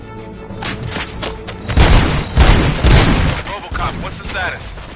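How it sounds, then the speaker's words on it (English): Gunshots in the video game RoboCop: Rogue City: a rapid series of loud booming shots and impacts in a combat scene, heavy and close, with voices heard among the blasts. "Gunshots? What's going on?"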